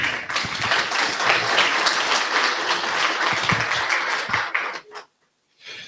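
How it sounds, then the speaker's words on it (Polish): A crowd applauds steadily and loudly for several seconds at a rescue medicine symposium, then the clapping stops abruptly into near silence before a brief return. "No to jeszcze raz wielkie brawa."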